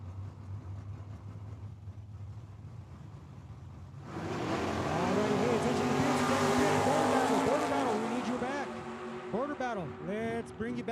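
A 1970 Chevy Camaro and another drag car launch at a dragway, engines roaring loud and close after a quieter idle, with rising and falling revs through gear shifts as they pull away.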